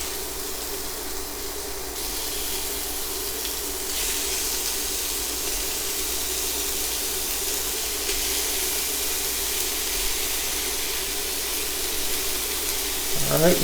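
Steak hits a hot induction-plate griddle beside shallots and sizzles in a loud, steady broadband hiss that holds for the whole stretch, close up and without pause.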